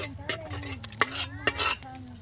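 Chicken curry with ground coriander and green chilli paste being stirred in a pan, with soft repeated scrapes and clinks of a spoon over a light sizzle.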